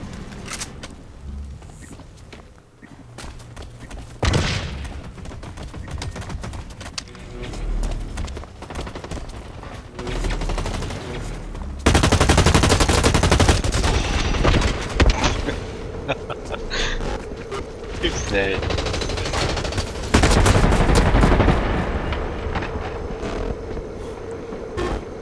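Rapid bursts of turret fire and dense gunfire in the online shooter Blacklight Retribution, loud and sustained with heavy clattering volleys, swelling around the middle and again near the end, with a player's voice occasionally underneath.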